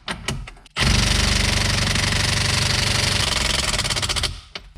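A Milwaukee power gun snugs down a steering wheel nut on a C6 Corvette, a loud, steady high-speed whirring burst of about three and a half seconds with a brief rattling start and a fading tail.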